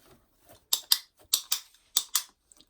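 A handheld clicker used in monitor lizard training snaps in three quick paired clicks, each a sharp double click, close and fairly loud with faint rustling between and no talking.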